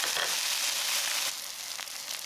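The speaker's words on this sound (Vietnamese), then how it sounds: "Mình chiên trên lửa nhỏ vừa để cá chín từ từ." A fish cake fries in a pan over low-to-medium heat, giving a steady dense sizzle with fine crackling throughout, close and continuous.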